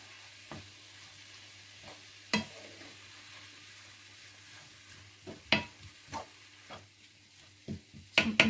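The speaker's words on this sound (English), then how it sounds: "So I'm going to keep giving this a stir and brown it off" Minced beef and onions browning in a pan, with a steady low sizzle under repeated sharp scrapes and clatters of a utensil stirring, the strokes coming irregularly and growing busier toward the end.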